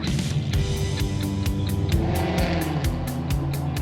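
Car engine revving loudly as the prince drives in Monaco, repeated throttle blips and rumbling gear changes close up, with no talking over it.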